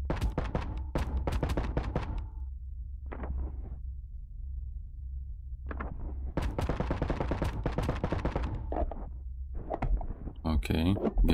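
Video game Boundary gunfire: rapid bursts of automatic weapon fire in clusters, loud and close, with short pauses between volleys and a few single shots, speech also present.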